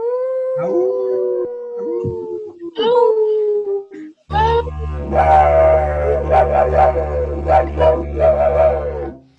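Several voices imitate a dog's howl, drawn-out wavering cries rising and falling one after another, then a group howling together loudly and close, with overlapping whoops over a low drone.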